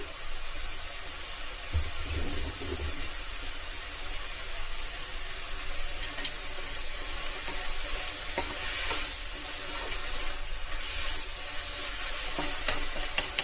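Crushed onions fry in a pan with a steady, bright sizzle that runs throughout, with occasional soft stirring clicks and no talking, heard up close.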